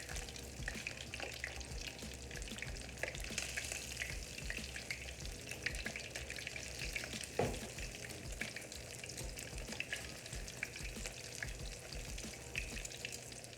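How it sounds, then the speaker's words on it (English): Buttermilk-battered fish fries in a pan with a steady, dense sizzle and crackle that holds at an even level throughout, with one brief louder pop partway through and no talking. "So we're gonna fry the fish for 3 minutes on each side, or until 140 degrees internal temperature."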